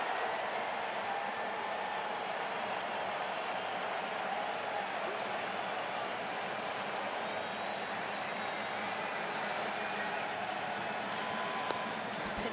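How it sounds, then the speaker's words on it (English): A large crowd roars steadily at a baseball game in the Oakland Coliseum, the broad wash of cheering and noise holding at a constant loud level throughout with no distinct voices standing out. "Crowd getting loud at the Coliseum."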